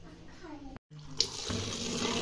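Tap water runs into a kitchen vessel during cooking, a close, rising splashing stream after a short pause, with faint voices and a clink early on.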